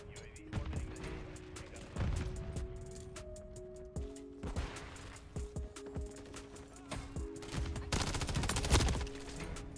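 MTZ 556 rifle fired in Modern Warfare III, with repeated sharp shots in short bursts and single cracks over steady game background tones, ending in a louder dense burst near the end.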